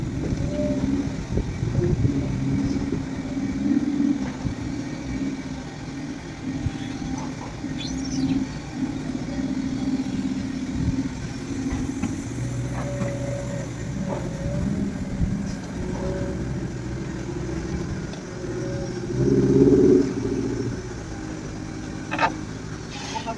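A car drives along a road toward a loading point near a customs area, heard as a steady low engine and tyre drone from inside, with a few brief bumps and a louder swell toward the end.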